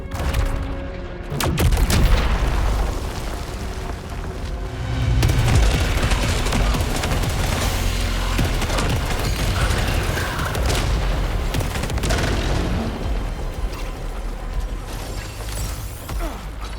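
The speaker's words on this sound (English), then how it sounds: "we need to use the power weapon to break down this wall" A power weapon blasts through a wall in the sci-fi shooter Saros, loud booming impacts and crumbling debris over a dense, rumbling game soundscape with mechanical clanks throughout.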